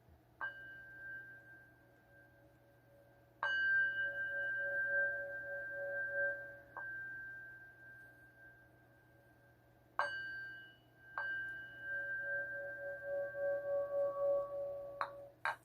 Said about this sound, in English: Now we're going to ring in the bowl, bang the gong